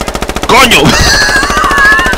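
Rapid regular gunfire from a video game, a quick string of sharp shots, followed by a loud burst and overlapping excited voices.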